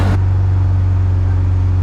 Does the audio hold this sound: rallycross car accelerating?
yes